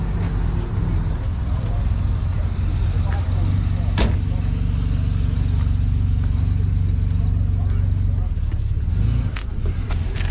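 A Healey car fitted with a big V&M supercharger idles with a loud, steady, low engine rumble. One sharp click lands near four seconds, and the rumble softens briefly toward the end.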